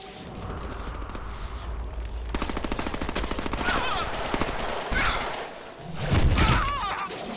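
Sustained machine-gun fire rattles in the Deadpool video game, with fast rhythmic bursts, thuds and an impact near the end, loud and busy throughout.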